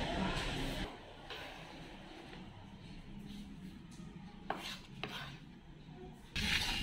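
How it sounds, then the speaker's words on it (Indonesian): Pineapple is crushed and mashed into shrimp-paste sambal, with close scraping and rubbing strokes and a few sharp knocks against the bowl. "Jadi nanasnya tinggal kita hancurin aja seperti ini"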